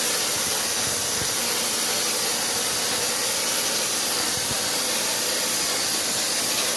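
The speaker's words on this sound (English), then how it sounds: "So let's finish spraying this wall." A texture sprayer blasts orange peel texture onto a wall in one continuous loud, broadband hiss, steady from start to finish with no talking over it.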